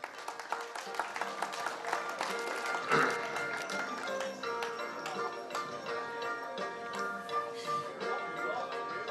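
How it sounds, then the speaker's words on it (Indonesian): Crowd applause at a 70th anniversary celebration in Long Atip, a dense, steady clapping wash running throughout with a brief louder swell near the start. "Beri tepukanlah."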